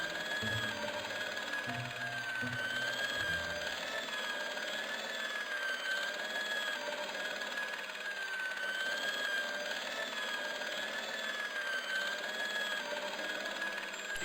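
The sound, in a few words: industrial polishing machine in video game Broken Sword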